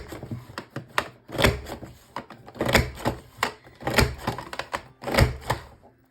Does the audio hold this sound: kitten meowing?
no